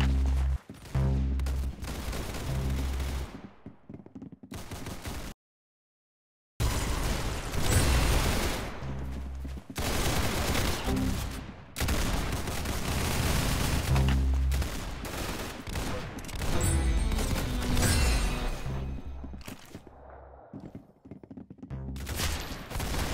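Gunfire in the Roblox Arsenal video game, dense bursts of rapid shots and heavy blasts crowding together loudly, with a brief silent gap early on before the shooting resumes.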